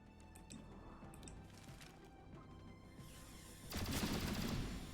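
Gunfire in the tactical video game XCOM: Chimera Squad, a loud sustained burst erupting near the end after a quieter stretch of game ambience and faint clicks.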